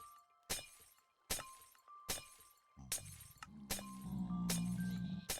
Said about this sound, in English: But now I gotta deal with the breaking glass thing.